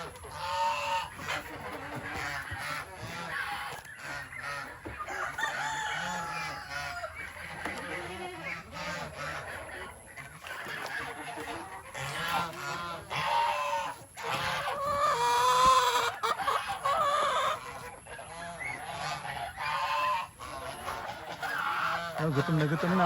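Farm chickens cluck and crow in a busy, continuous flock, some calls close and loud, with people talking now and then among the birds.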